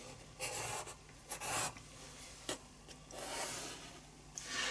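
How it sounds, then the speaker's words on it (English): A pencil traces around a shape on cardboard in short, scratchy scraping strokes, close to the microphone and fairly quiet, with brief pauses between the passes. "quickly draw around it."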